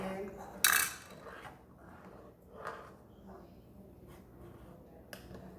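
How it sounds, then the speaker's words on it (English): A spoon knocks once against a pot, then scrapes and stirs quietly as grits are stirred in. A couple of faint clinks follow, close and with no voices. "So I'm gonna stir all that in."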